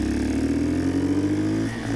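A custom 1967 Honda CT90 fitted with a YX140 engine and a fairly restrictive exhaust runs with a steady, buzzing drone up close, then the pitch briefly dips and wavers near the end.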